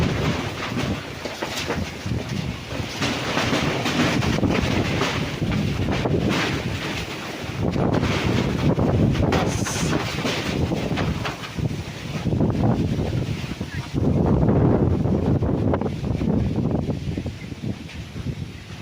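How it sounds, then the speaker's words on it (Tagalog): Strong wind roars and buffets a microphone continuously on a farm lot in Pila, Laguna, a heavy rumbling gust noise with no clear voices. "ang lakas ng hangin"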